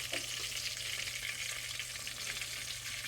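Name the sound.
pork frying in pan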